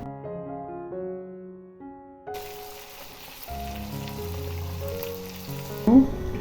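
Fish grills in a Teflon pan with a little margarine and no charcoal. A steady sizzle starts a couple of seconds in, under background music, with a brief louder crackle near the end.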